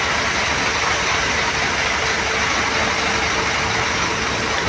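A Harapan Jaya bus engine idles at the Ciputat terminal, a steady, loud mid-pitched rumble held close and constant with no other sounds.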